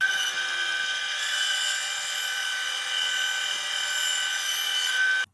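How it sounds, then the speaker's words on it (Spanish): A TOTAL band saw cutting curves in wood, a steady loud whining buzz with a high tonal ring that holds continuously, then cuts off sharply at the end. "Ahora vamos a hacer otro corte, aunque siento que la hoja se dobla demasiado cuando estoy haciendo las curvas"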